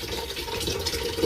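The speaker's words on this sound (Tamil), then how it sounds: "இப்போ குடிக்க தண்ணி பிடிக்கும் அது." Drinking water running from a tap pipe, a steady close splashing stream filling a container.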